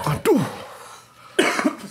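Two sharp coughs about a second apart, close and fairly loud, with quiet room noise between them.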